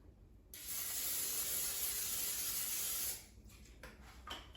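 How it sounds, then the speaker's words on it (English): Non-stick cooking spray hisses from an aerosol can onto a non-stick frying pan sized for an air fryer, one steady, close burst of about two and a half seconds followed by faint handling clatter. "So I'm going to also spray it with a non-stick cooking spray."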